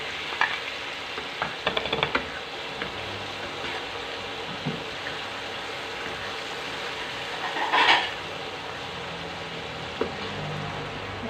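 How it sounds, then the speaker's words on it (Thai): Steady sizzling of fried egg tofu being stir-fried in a pan with Chinese celery, with scattered scrapes and clacks of the utensil against the pan and a louder stir near the end. "แล้วก็เอาเต้าหู้ไข่ทอดลงผัด"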